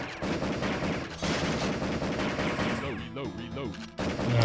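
Dense, continuous gunfire and blasts from the PS1 light-gun shooter Area 51 rattle loudly under game music, with someone talking briefly over the shooting.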